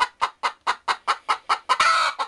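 A chicken clucks in a quick, steady run of about ten sharp, close calls, one stretched into a longer squawk near the end.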